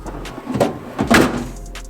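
A drawer slides open with a short scraping rumble, followed by a louder sliding thud, close by and brief.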